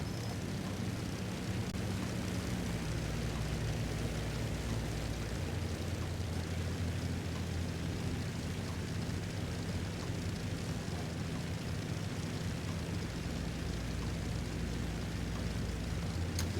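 Steady engine drone of an aircraft flying past over Southampton in a flight simulator game, a continuous moderate roar holding evenly throughout, with no voices.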